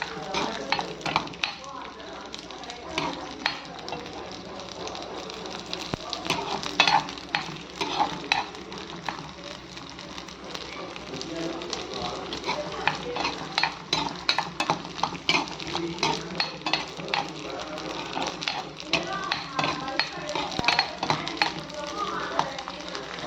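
Ingredients for a pepper mutton bone curry are sautéed in a pan, with rapid, repeated scraping and stirring strokes over a constant sizzle, while a voice talks at intervals.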